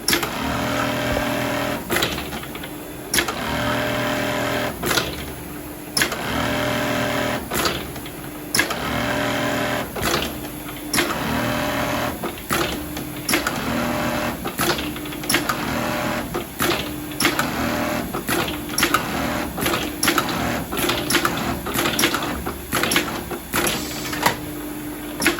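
A Foggiato Strobel KA-ED industrial sewing machine runs in repeated working bursts, loud mechanical clattering stopping and starting with clicks and brief pauses over about twenty-five seconds, close up and without talk.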